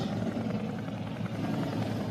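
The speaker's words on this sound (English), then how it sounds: "That's a helicopter." A helicopter flies overhead with a loud, continuous low rotor thrum and rumble that stays steady throughout the short clip, with no voices.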